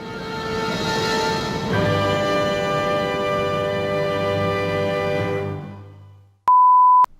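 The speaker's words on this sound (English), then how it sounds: "that alarm that you hear in our opening means we're back" A loud electronic alarm tone sounds briefly and alone at the end, following a sustained musical drone that fades out, marking a podcast opening.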